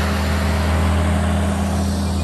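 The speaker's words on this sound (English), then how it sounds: "That's the tractor we'll be waiting." A tractor engine idles steadily on a farm beside sunflower fields, a constant low rumble with a droning hum that stays loud and unbroken throughout, with no voices over it.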